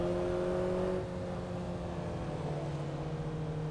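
A Mazda Miata engine in the Assetto Corsa racing game hums steadily at high revs on the Pacific Coast Highway, a sustained droning whine that shifts slightly in pitch partway through, with no talking.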